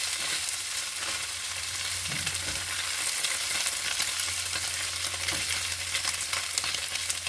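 Tofu and winged beans fry in a pan, a dense, even sizzle that stays close and constant, with a few soft stirring knocks and a low hum beneath.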